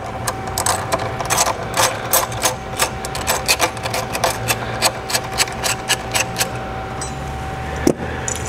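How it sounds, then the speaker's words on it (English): Ratchet with a 10 millimeter socket backs out a bolt on a Nissan Titan during a catch can install, a rapid, close, steady series of clicks with no talking. "First step is we're going to take out the 10 millimeter bolt"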